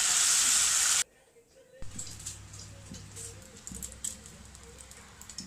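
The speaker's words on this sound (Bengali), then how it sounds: "তারপর আগে থেকে ম্যারিনেশন করে রাখা মাংসটা একটু ভেজে নেব।" Marinated chicken seasoned with soy sauce, tomato sauce, black pepper, ginger and garlic fries in a pan, a soft sizzle and patter after a loud opening burst, continuous and close.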